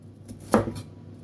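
A knife thinly slicing bitter gourd (ampalaya) on a cutting board: one sharp, close chop stands out amid a few softer taps, with no speech.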